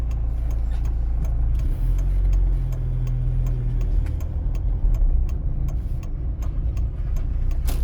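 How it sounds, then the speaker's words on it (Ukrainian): Steady road and engine rumble from cars on a driving-test route in Chernivtsi, with a regular light ticking like a turn signal running above it; continuous and fairly loud with no talk. "Чекаємо, коли прийдуть автомобілі."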